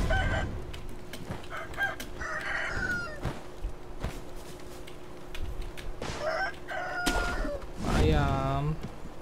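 A rooster in Sekiro: Shadows Die Twice crows repeatedly over about nine seconds, with clucking fowl mixed in, loud and near over a steady game backdrop.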